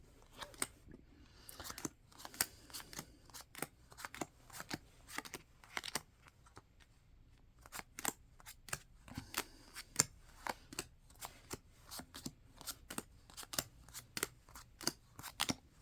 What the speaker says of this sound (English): I know, can you believe this is my whole shuffle method?